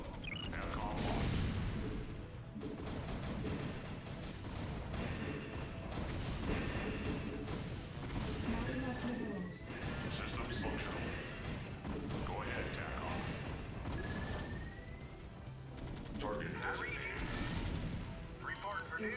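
Goliath walkers in StarCraft fire their weapons in a dense, continuous battle: rapid overlapping bursts, booms and crashes, with short rising whistles and faint voice chatter mixed beneath.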